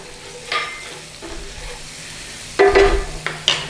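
Garlic dropped in with onions in a hot pan and stirred with a wooden spoon, giving soft sizzling and frying with short bursts of louder crackle as the pan is stirred, no talk.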